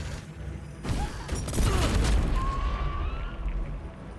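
A thrown Alchemist's Fire flask bursts into flame in Baldur's Gate 3, a deep muffled boom followed by a sustained rumbling roar of fire, fairly loud, with no speech.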